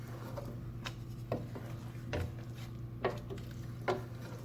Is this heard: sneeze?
no